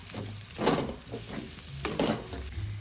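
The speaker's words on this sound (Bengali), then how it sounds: "এবার ভালো করে এটা কষাতে থাকবো খানিকক্ষণ কষাবো এটা" Food sautéed and stirred in oil in a pan, a continuous sizzle broken by several scraping strokes of the spatula at an uneven rhythm, fairly close and clear with no talking.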